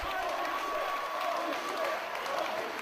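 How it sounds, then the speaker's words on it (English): A UK wrestling crowd roaring after a high-risk corkscrew move, a broad steady wash of cheering and clapping that stays loud across the whole moment, with a commentator talking over it. "just listen to this crowd, Joe. Listen to the crowd."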